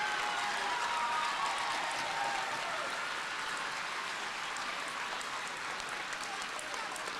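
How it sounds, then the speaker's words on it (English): A gym crowd applauds at a basketball ceremony honouring top county athletes, a dense, even roar of clapping that holds for several seconds, heard from a distance with a faint voice blending in. "Let's give a nice round of applause for the top 200 athletes in Decatur County history."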